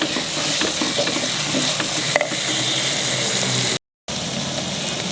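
Two slices of dry prawn frying in a pan, a dense, steady close sizzle with faint crackles, continuous apart from a brief cut near the end.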